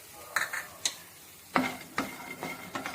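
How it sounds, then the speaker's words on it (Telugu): Peanuts and green chillies fry in a pan, with a spatula clattering and scraping in a few sharp, separate strokes over a low sizzle, close by and without talk. "ఇలా కొంచెం బ్రౌన్ కలర్ వచ్చే వరకు ఫ్రై చేసుకుంటూ ఉందాము"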